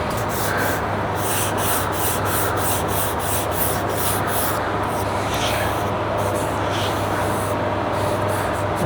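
Sealer on a painted car bumper is scuffed with abrasive, a steady loud rhythmic rubbing and scratching that runs without pause from start to finish.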